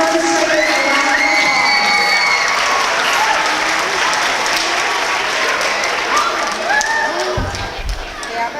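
A school crowd applauds first graders at an academic awards ceremony, with loud, sustained clapping mixed with cheers and children's shouts, and some voices talking through it.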